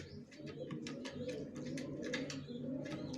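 Racing pigeon chicks cooing up close, a continuous low throaty murmur of overlapping coos with faint higher chirps and peeps repeating over it, steady and moderately loud.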